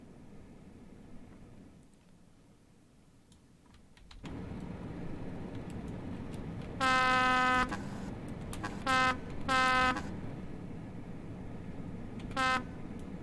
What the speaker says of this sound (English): Good horn as well.